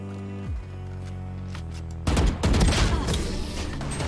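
Gunfire in the video game Valorant breaks out after a low humming lull, a sudden rapid volley of sharp, loud shots crackling close by for about two seconds.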